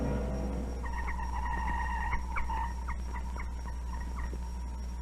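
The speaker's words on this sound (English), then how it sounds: "That sound is a communist jammer at work," A warbling electronic jamming signal from a communist jammer targeting Radio Free Europe, wavering bursts over a low steady drone and hum, fairly loud and continuous.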